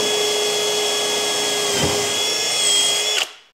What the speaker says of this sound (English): And now we drill right through the jig.